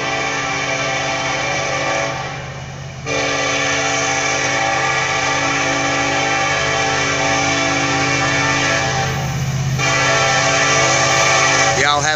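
Norfolk Southern 213 intermodal train led by SD70ACe and ET44AC locomotives passes near Cowpens, a loud sustained diesel engine roar with a tonal horn-like drone and rolling rail noise, and a voice heard near the end.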